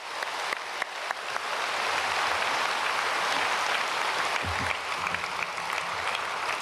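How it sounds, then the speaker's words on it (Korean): A church congregation applauds steadily during a Sunday worship service, a dense continuous wash of many hands clapping at moderate volume for several seconds. "우리 크게 한번 박수하도록 하겠습니다"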